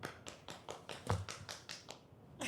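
Slow, evenly spaced hand claps, about ten distinct strikes roughly a quarter second apart, welcome an invited guest on a podcast episode, close and fairly faint, like one or two people clapping rather than a crowd.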